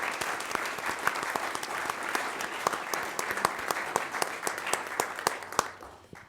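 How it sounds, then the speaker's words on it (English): Dense, steady audience applause for school award winners at a recognition event, sustained at even loudness before tapering off at the end. "So let's give a big round of applause to all our Education Edge winners"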